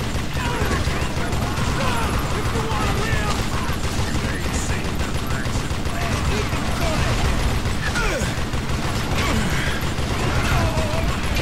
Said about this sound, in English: kao minigun, obožavam ovako pucanje